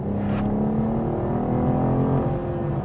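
A 2021 BMW M440i xDrive coupe's inline six drones with a smooth, steady engine note under load, close and even, its pitch holding roughly level as the car pulls.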